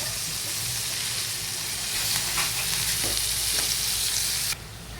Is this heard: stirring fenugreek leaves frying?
yes